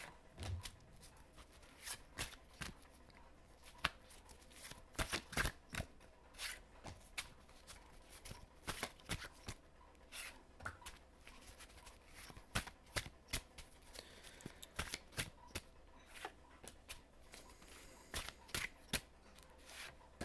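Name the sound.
shuffling tarot cards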